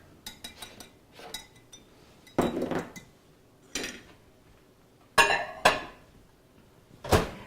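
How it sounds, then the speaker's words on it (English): A spoon stirs a melted mixture in a bowl, with sharp clinks and scrapes against the dish coming in scattered bursts, close and clear, with no talking. "So we're going to just get that stirred up here."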